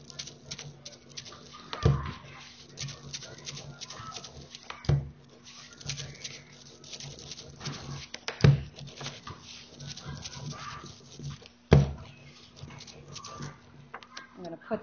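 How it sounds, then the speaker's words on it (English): A brayer rolls back and forth through printing ink while inking a linoleum block for a reduction linocut, giving a steady, tacky crackling texture broken by a few louder knocks. "So I'm rolling this back and forth on the brayer."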